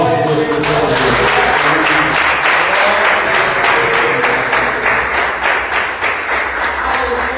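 Church congregation applauding during a sermon at a worship service, a dense, loud, steady roar of many hands clapping that persists for the whole stretch without a break.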